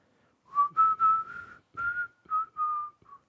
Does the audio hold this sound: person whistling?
yes